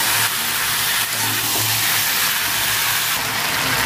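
Vegetables with turmeric, ginger and garlic stir-frying in a pan for a Bengali puishak dish, giving a dense, continuous hiss of sizzling oil with low rumbling underneath, steady and close, with no voices.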